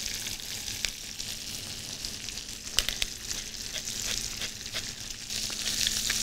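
Veal sweetbreads fry in olive oil and butter in a pan with crushed garlic, thyme and bay leaf, giving a steady close sizzle with scattered pops and crackles and a low hum beneath, no voices.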